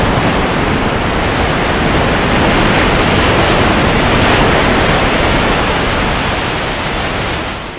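Ocean waves surge at Thor's Well in Yachats, Oregon, a loud, dense, continuous roar of churning surf that fills the whole stretch and tapers slightly at the end.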